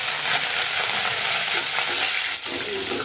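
Hot oil crackles and hisses steadily as a tempering is stirred in while making corn chivda, a loud, dense, continuous sizzle with occasional sharper pops and no talking.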